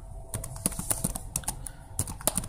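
Rapid, uneven clatter of keys on a computer keyboard as code is typed, close and fairly quiet, with short bursts of keystrokes and brief pauses between them.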